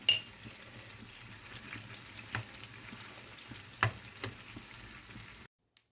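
Onions sauté with a little chili powder in a pan, giving a soft, steady frying hiss with a few utensil clinks and scrapes, heard quietly up close before the sound cuts to silence.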